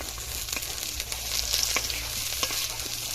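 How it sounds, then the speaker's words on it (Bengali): Chopped onion fries in oil with whole cumin, whole garam masala and bay leaves. A close, steady sizzle runs for about three seconds, with a few quick stirring scrapes cutting through it. "পেঁয়াজটা খানিকক্ষণ ভেজে নিয়েছি"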